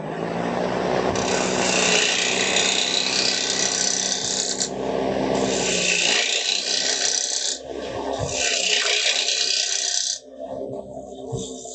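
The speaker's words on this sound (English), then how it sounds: "we'll start the lathe back up" A woodturning lathe runs close and loud while an oriental-style wooden box is turned, a steady motor hum under bursts of hissing cutting noise that come and go in three long passes, with no voices.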